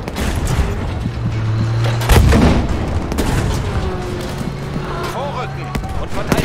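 Gunfire in the World War II shooter Battlefield V, repeated shots and booming artillery thumps amid a busy battle soundscape, with in-game German voices speaking over it.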